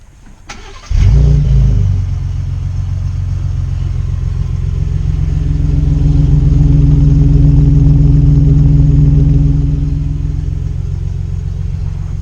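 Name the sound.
Ford Raptor V6 EcoBoost twin turbo engine starting and idling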